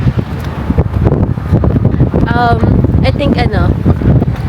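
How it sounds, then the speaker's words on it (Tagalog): Strong, cold wind at Chiang Kai-shek Memorial Hall in Taipei roars across the microphone in heavy, steady gusts. A person speaks briefly, and a faint whistling tone rises partway through. "Pero grabe yung hangin."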